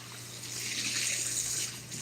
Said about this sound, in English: Got a triple, quadruple rinse